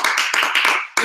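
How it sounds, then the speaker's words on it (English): An audience at a lecture claps for a volunteer called up on stage, a loud close burst of applause that breaks off briefly and then starts again. "A big round of applause."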